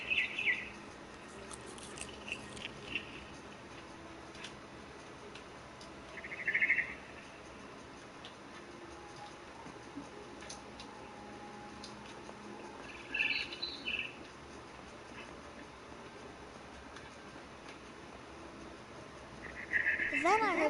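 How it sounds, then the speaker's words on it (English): Barn swallow chirping outside a window in the game What Remains of Edith Finch, a few short high bird calls scattered over a quiet ambient background. "Then I heard chirping outside my window. It was a barn swallow going back to her nest."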